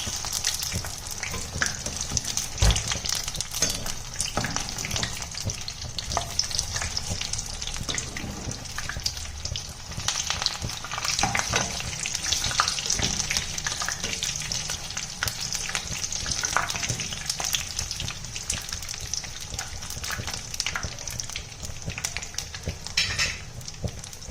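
Taro leaf parcels, a traditional chamaku potlalu dish, fry in a pan of oil with a continuous close sizzle, broken by occasional stirring scrapes and light utensil clinks throughout.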